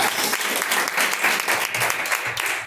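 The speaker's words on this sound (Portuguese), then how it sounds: "Receba o pastor com as palmas de Deus" A church congregation claps to welcome the pastor at a live worship service. The applause is full and sustained, close and lively, with some uneven rhythmic clapping and faint voices mixed in.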